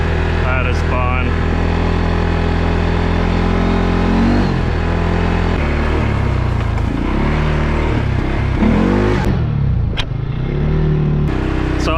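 A 2022 CFMoto CForce 500 ATV runs in high range at speed along a gravel road, its engine droning loud and steady with shifting pitch and rough rumble throughout, plus wind buffeting and gravel noise.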